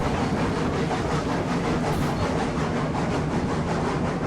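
A train in the game Railroads Online climbs a 2% grade, giving a steady, loud rumble with a faint rhythmic clatter that continues without a break and without talking.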